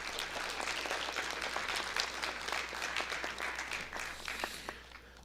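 An audience applauds the first- and second-place teams on stage at a scholarship quiz bowl final, with a steady, fairly faint patter of clapping that tapers slightly at the end.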